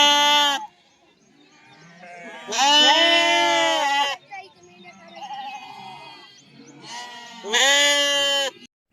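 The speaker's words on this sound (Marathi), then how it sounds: "जे पाजणीच्या मेंढ्या आहेत त्या मेंढ्या आता काढून त्यांची पिल्ले त्यांना पाजवायची" A flock of sheep, with ewes let out to nurse their lambs after heavy rain in a village, bleats in three loud, long calls separated by quieter murmuring from the herd.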